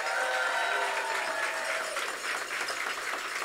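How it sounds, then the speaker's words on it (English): Sustained applause from a crowd at a political rally for a gubernatorial candidate, dense steady clapping with no voices over it, moderately loud throughout. "Let's give them a round of applause."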